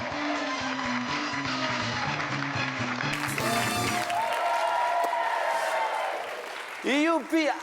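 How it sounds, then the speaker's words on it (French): Applause from a studio audience on a French TV game show, a steady wash of clapping and cheering that runs throughout, mixed with music and a host's voice. "le public vous applaudit"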